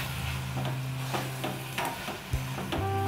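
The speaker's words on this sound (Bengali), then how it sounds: "ছানা আর চিনি এই দুটোকে খুব ভালোভাবে মিক্স করতে হবে" Chhana and sugar are stirred in a kadai, giving soft scraping strokes and a light sizzle over a low steady hum, with a few louder knocks of the spoon against the pan.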